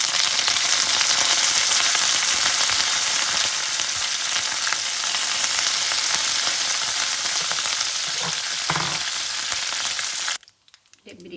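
Whole spices (bay leaf, cinnamon, cardamom) and curry leaves frying in hot oil for mutton curry, a loud continuous sizzle and crackle that cuts off abruptly near the end.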